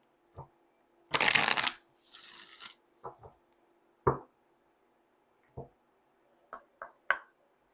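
A deck of Moonology oracle cards is shuffled close up in a quiet room: one fast riffling burst followed by softer sliding, then scattered taps and flicks as individual cards are handled and laid down.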